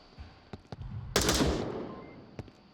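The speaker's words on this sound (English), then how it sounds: "Shots ringing out." Gunfire in the VR shooter Onward: a few sharp single shots, then a dense burst of automatic fire with a rolling tail, followed by another isolated shot.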